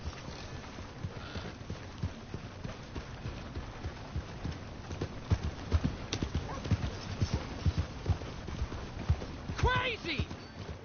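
Horse hooves clip-clop steadily in Red Dead Redemption 2, a fast rhythmic beat that grows busier midway, with a whinny near the end and talk over it.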